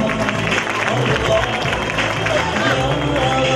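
Audience applause for a guest invited on stage at a Quran course graduation ceremony in Sefaköy, a steady dense wash of clapping with crowd murmur, loud and continuous throughout.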